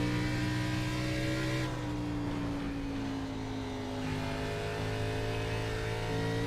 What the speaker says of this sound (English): I have a very ill-handling race car.